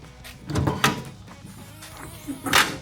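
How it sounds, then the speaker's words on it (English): Canopy door on the back of a JDM 80 series truck being opened, with several clunks and rattling bangs of latch and hinge, plus sliding scrapes, close by. "when I open up this door"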